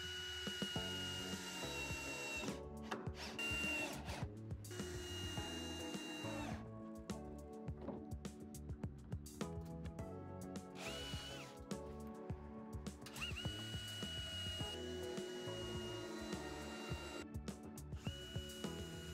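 Cordless drill screwing a fascia board onto the roof beams of a garden sauna, repeated whirring bursts with ratcheting clutch clicks and pauses between screws.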